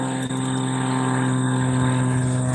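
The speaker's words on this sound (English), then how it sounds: "Float plane going by." Float plane flying past, a steady propeller engine drone with a strong, even hum, fairly close and loud throughout.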